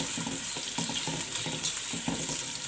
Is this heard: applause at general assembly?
no